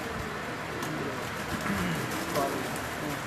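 Flying pigeons give low, soft coos over a steady hiss of background noise, with a couple of brief calls standing out and murmuring voices nearby.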